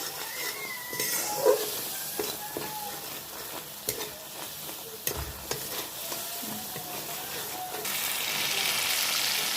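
A paste of ground white mustard and poppy seeds fries and is stirred in a pan, giving a steady soft sizzle with scattered scraping and clicks of the spoon, fairly quiet, with no talk.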